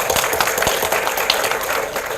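A conference audience at a V2X industry event applauds, a brief dense burst of clapping from many hands, steady and fairly loud with no talk over it.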